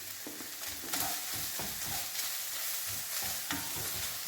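Bacon garlic pasta stirred in a frying pan: a continuous sizzle with repeated scraping strokes of the utensil at a regular rhythm, close and moderately loud, no talking.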